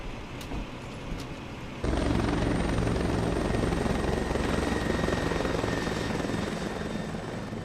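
After a quieter start, a helicopter's heavy, thumping rotor noise swells in and stays loud and steady, close by.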